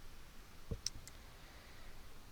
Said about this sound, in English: we're going to click next